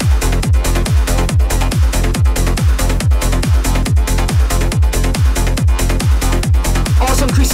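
Acid synth lines running through a trance mix, a loud, steady four-on-the-floor kick pulsing under a buzzy, resonant synth pattern with no voices.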